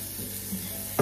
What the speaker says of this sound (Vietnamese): Hành tỏi băm mình xào lên cho thơm.